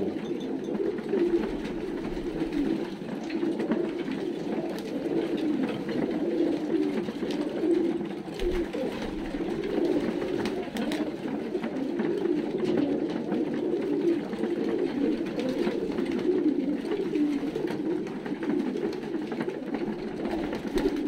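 Soft, continuous cooing of several male pigeons close by in a loft, a low warbling murmur that carries on without pause.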